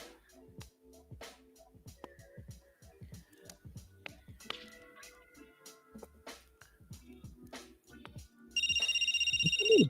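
A telephone ringtone starts near the end and rings loud and steady, following a stretch of rhythmic clicks and tapping in a quiet room.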